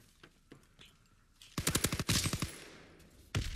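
A PPSh submachine gun fires in a video game team deathmatch: a loud, rapid burst of close shots, then a second run of fire, and a short final burst after a pause.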